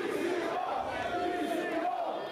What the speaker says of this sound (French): La foule encourage son Joannais préféré, le légendaire PCO.